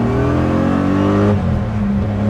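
A BMW E30 coupe with a swapped M60B44 V8 accelerates hard with a loud close engine note climbing in pitch, then drops abruptly as traction is lost, heard from inside the car.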